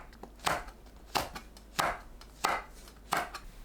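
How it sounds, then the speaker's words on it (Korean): A knife slicing green and red chili peppers on a cutting board at a diagonal, five crisp separate chops spaced about half a second apart, close and clear with no talking. "청양고추와 홍고추는 어슷 썰어주세요"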